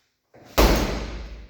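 A martial-arts high kick landing with more power on a target, one sharp loud impact after a softer rustle, followed by a sustained thudding rumble.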